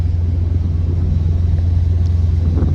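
A tuned Subaru WRX bugeye engine pulls through second gear across a full rev range, a loud, steady low-pitched rumble heard from inside the car with no talk over it.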